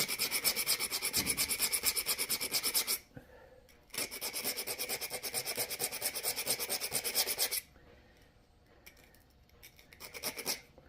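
Hand-grinding notches into a flint point, with long bursts of steady, rhythmic rasping and scraping, loud and close, broken by short pauses and ending in a few lighter strokes, with no talking.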